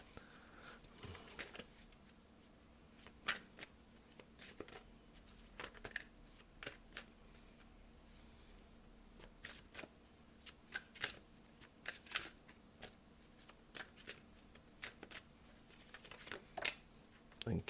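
A deck of tarot cards being shuffled by hand in a quiet room, with repeated soft riffles and crisp card slaps coming in irregular bursts over faint background hiss, no voice present.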